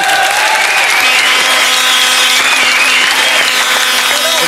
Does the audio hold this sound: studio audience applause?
yes